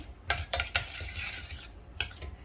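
A spoon stirs fresh grated coconut into chow chow dal curry in a pot, with a few sharp metallic clinks against the side and a soft scraping between them.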